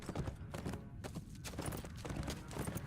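Horse hooves clip-clop steadily in The Lord of the Rings Online, a continuous close trotting rhythm laid over dense game background sound.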